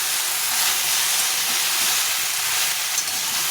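Ridge gourd pieces fry in a pan with turmeric and salt, giving off a loud, unbroken hiss and sizzle that stays even throughout.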